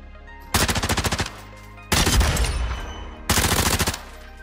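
Three loud bursts of rapid automatic gunfire at the firing range in the video game Warzone 2.0, each volley about a second long with short pauses between, close and punchy over a faint steady hum.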